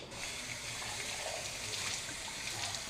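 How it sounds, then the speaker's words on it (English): A cooking pot is rinsed out under a running kitchen tap while making ramen, a steady close gush of water splashing in the sink for a few seconds with no talking. "And we wash the pot out."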